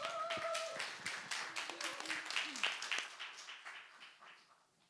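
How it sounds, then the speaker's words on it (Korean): A church congregation at a Sunday worship service claps to welcome a pastor to the front, a modest, fairly distant patter of applause that gradually thins out. "정말 열정으로 박수로 환영해 주시면 감사하겠습니다"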